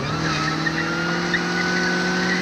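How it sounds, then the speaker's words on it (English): A car held on the brake during an attempted burnout, engine droning steadily at high revs with a faint squeal running over it, loud and continuous throughout. "I tried to do burnout with my car."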